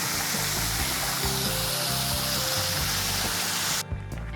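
Constant roar of rushing water from a nearby waterfall in Phu Pha Yon National Park, Sakon Nakhon, Thailand, loud and unbroken, with faint low footsteps or movement underneath.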